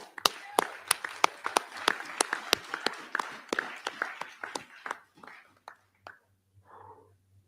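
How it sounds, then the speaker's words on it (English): An audience applauds a woman at an evening speaking event in Barbados, a burst of sharp claps that thins out and fades to a few scattered claps near the end. "Let us applaud this lady."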